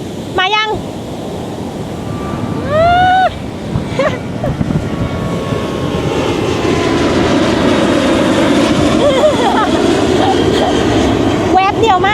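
Airplane flying low over Mai Khao Beach in Phuket, a broad roaring engine rumble that builds and holds loud over several seconds, with beach ambience and voices talking beneath it.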